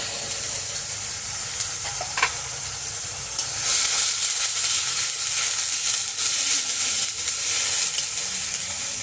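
Ginger paste hits a hot pan and sizzles steadily, the frying hiss swelling louder partway through and holding close and continuous with occasional stirring scrapes, no voices.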